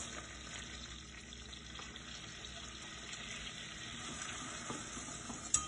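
Flour cooking in melted butter in a pan gives a steady, quiet sizzle with soft stirring scrapes throughout and a brief sharper clink near the end; no one speaks.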